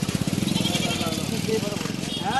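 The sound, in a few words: goats bleating at a livestock market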